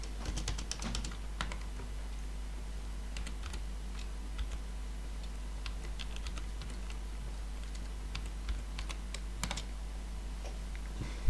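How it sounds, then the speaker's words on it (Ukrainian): Computer keyboard typing of a prescription number at a pharmacy workstation, soft irregular key clicks in short bursts over a low steady hum, fairly close and quiet. "можемо набирати номер нашого рецепта"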